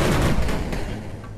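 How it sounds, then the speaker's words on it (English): Gunfire from units opening fire in the 8-Bit Armies strategy game, heard as a brief, loud burst of rapid shots that fades quickly. "Opening fire."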